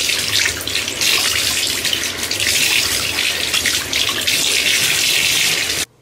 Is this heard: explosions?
no